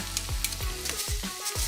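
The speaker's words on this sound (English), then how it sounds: "Oh, here's the sizzle" Food sizzles in a hot pan over medium heat, a steady broadband hiss with a few low thumps and scrapes mixed in.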